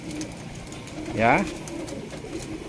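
A Plosur-breed racing pigeon coos once, a brief rising-and-falling call close by, with someone talking over it.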